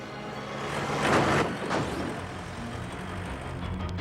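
A runaway cartoon truck that cannot be braked roars past in a loud engine surge that swells, peaks and then settles into a steady rumble with a brief brake hiss.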